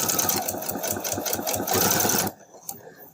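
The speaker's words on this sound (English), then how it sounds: "I'm going to quick little back stitch and let it run" Sewing machine with a standard J foot making a quick back stitch on quilt-as-you-go strips, a loud rapid rhythmic chatter up close that cuts off sharply near the end.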